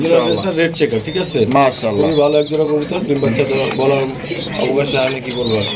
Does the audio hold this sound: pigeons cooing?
yes